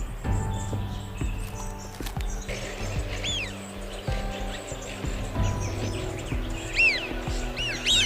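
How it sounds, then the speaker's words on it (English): Migrating birds call at a lake, with repeated short chirps and rising-falling whistled notes from a few birds over a steady low background rumble, moderately near and without talk. "the birds continue to come"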